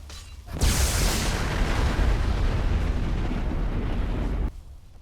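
Skyrim's two-handed Volcanic Storm spell sets off a lightning explosion near the caster, a sudden loud roaring blast that starts abruptly, rumbles heavily for about four seconds, then cuts off sharply.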